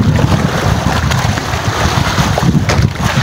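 Loud rushing wind and surging sea water roar close by, with heavy buffeting against the microphone and no talking.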